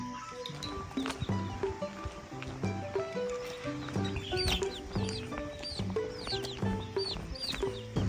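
A mother hen clucks repeatedly, searching for her chicks, with a steady run of near, rhythmic clucks over a busy farmyard background of other birds and higher peeps, no talk.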